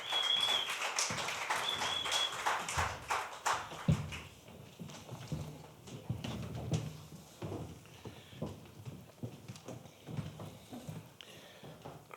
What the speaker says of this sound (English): Let's give them a round of applause as they come up.